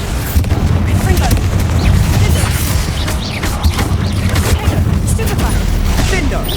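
Bombarda and Confringo explosion spells cast in Hogwarts Legacy, dense booming blasts and crackling impacts filling the whole span, loud and continuous with layered game effects and voices mixed in.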